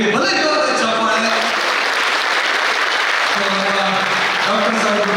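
A crowd at a mimicry show gives loud, sustained applause, with steady clapping filling the whole stretch and some tonal sounds running faintly underneath.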